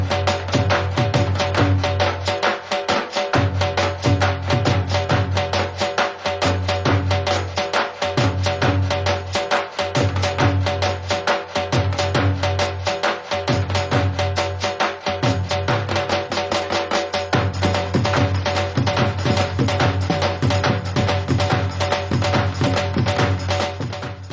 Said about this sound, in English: the Dhol drum sounds like this